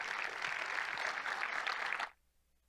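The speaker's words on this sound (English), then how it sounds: "let's give her one more big round of applause" Audience applause at a children's pageant-style contest, a steady dense wash of clapping for about two seconds before cutting off abruptly into near silence.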